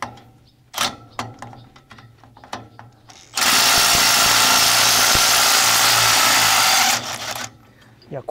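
A 12V cordless impact wrench used to change tines on a tractor's tiller rotor: light metallic clicks and handling knocks, then a loud, sustained rattling hammer burst lasting about three and a half seconds that stops abruptly.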